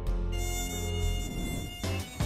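A mosquito buzzes close by, a loud, steady high-pitched whine that holds for about two seconds and then briefly cuts out before returning.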